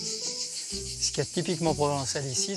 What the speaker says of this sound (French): c'est la bande-son, avec le chant des cigales sous la pinède